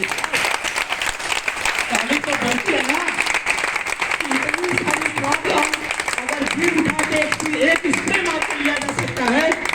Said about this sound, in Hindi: ताली तो बजनी चाहिए ना भाई